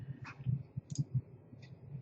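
A computer mouse at a server workstation gives a few quick, light clicks in uneven succession, close and quiet against a faint background hum.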